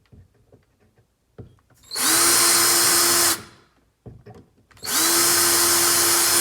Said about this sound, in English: Okay, so 4 holes are drilled, no stud.